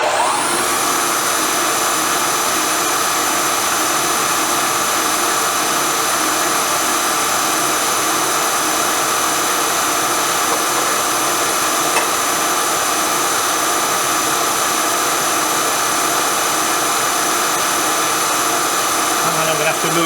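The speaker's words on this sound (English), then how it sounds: "Now it's set up vertically, 1/4 inch end mill." Milling machine set up vertically with a 1/4 inch end mill cutting a slot for a BSA B50T motorcycle part, a steady loud whine and hum holding evenly throughout, with no talk.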